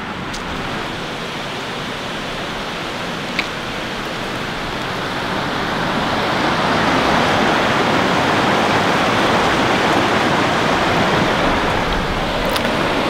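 A river runs right beside a campsite at sunset, giving a steady broadband rush of flowing water that swells a little louder midway and holds constant, heard alone with no talking.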